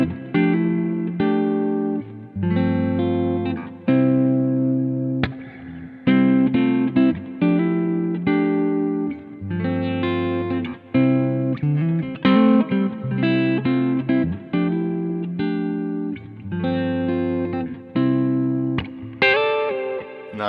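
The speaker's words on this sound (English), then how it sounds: "I probably have caked on far too much reverb" Electric guitar strums a series of chords through a heavy reverb pedal, each ringing out through a heavy wash of reverb that lingers between strikes.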